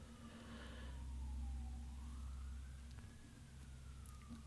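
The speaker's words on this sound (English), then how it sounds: "Sorry for the sirens." Emergency vehicle siren outside, a faint distant wail rising and falling slowly under low room rumble, heard from indoors with no talking.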